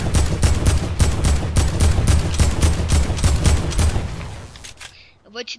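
Video game gunfire: rapid bursts of automatic shots in a steady, fast rhythm, loud and dense for about four seconds before breaking off into brief scattered sounds.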